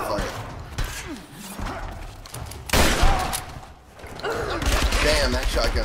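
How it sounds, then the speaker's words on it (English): Shotgun blasts in the Tomb Raider video game, loud booming shots amid chaotic combat noise, with a burst near the middle and more clustered impacts toward the end, under game dialogue. "Let's use the shotgun fire."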